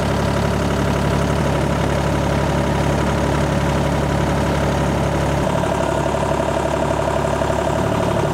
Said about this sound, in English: This is a 40 horse Deutz diesel.